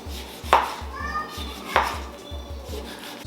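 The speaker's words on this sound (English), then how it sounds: "We'll slice this guy up real quick." Knife slicing cooked pork chops on a cutting board, a steady run of close, crisp chops with two sharper knocks against the board, under light background chatter.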